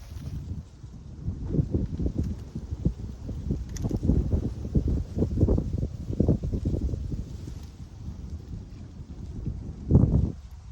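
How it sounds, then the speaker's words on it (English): Gusty wind buffets the microphone outdoors at a fishing spot, a steady low rumble with louder surges, strongest near the end, and no talking. "It's a little windy outside"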